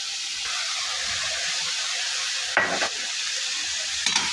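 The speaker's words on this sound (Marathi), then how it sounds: "आपलं सारण परततंय." Pineapple modak filling sizzles and hisses steadily in a pan while being stirred and sautéed, with a couple of brief scraping bursts near the end and no voices.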